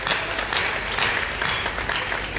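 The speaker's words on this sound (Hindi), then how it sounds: "एक बार जोरदार तालियां बजाइए" A crowd at a comic poetry gathering claps loudly and continuously, a dense, even wash of applause filling the room with no clear breaks.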